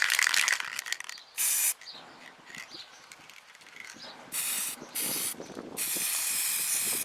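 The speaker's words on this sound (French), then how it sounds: "L'avantage de la peinture en bombe, c'est que ça sèche hyper vite." Spray paint can hissing in several short bursts and one longer sustained spray as an egg box is coated, close and fairly loud, with quiet handling noise between bursts.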